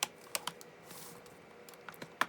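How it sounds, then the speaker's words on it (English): A laptop keyboard is slid and clipped into an HP Elitebook 2760P during a repair. Faint, sparse plastic clicks and taps come at close range with no one talking. "So, keyboard slides in."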